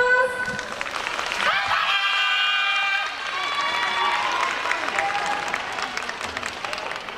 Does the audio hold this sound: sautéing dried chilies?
no